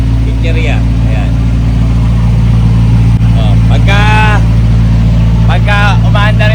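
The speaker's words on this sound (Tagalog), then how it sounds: "Maingay, tunog ang makina." A noisy fishing boat engine drones steadily and close throughout a sea outing in the Philippines, a loud continuous rumble with people talking over it.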